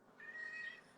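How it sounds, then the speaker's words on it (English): A pet cat gives a single drawn-out, fairly high meow indoors, faint but clear, lasting under a second against a quiet background. "oh, that's my cat. Sorry if you can hear her."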